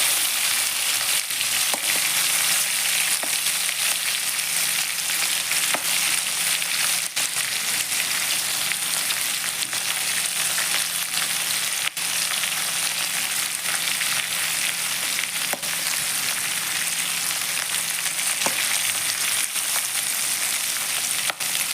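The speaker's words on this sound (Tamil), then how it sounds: "இது கூட புளியவும் இந்த எண்ணெயில் லைட்டாக போட்டிருக்கேன்" Tamarind frying lightly in oil in a pan while making pirandai podi, giving a steady, close, bright sizzle with faint crackles throughout and no voices.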